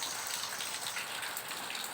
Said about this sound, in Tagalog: Malakas ang ulan dito guys.